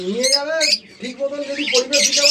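Foreign pet birds at a bird farm squawk loudly and close by in harsh, overlapping calls, with no break for about two seconds and voices mixed in.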